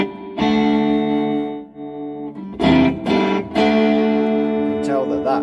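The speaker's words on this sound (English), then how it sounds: "you can tell that is distorted, to say the least" Heavily distorted electric guitar chords ring out through an Orange reverb unit with built-in amplifier, loud and buzzing, in several sustained bursts with short gaps between them.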